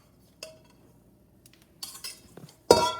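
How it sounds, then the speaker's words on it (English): A utensil clinks and scrapes in a pot while flour, salt and sugar are stirred into milk heating for a pie, with a few sparse taps and a louder clatter at the end, no talking. "And then we're gonna stir it up."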